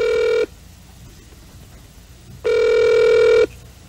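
An old-style telephone bell rings twice on a Korean radio comedy show. Each ring is a loud, bright one-second burst, and about two seconds of quiet separate the two rings.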